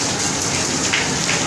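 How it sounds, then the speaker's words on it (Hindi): Heavy rain in Karachi pours down loudly and close by, a dense, unbroken hiss of drops hitting surfaces. "तेज़ बारिश हो रही है"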